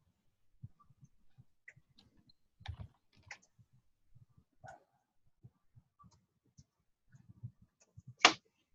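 Sparse, quiet clicks of typing on a keyboard come in short irregular bursts with long pauses, close and faint, ending with one sharper, louder tap.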